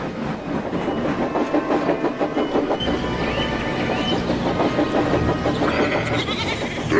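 A ghostly steam train draws near with a steady, rhythmic clatter of wheels on rails. The rumble is dense and continuous, with high whistle-like squeals rising over it toward the end.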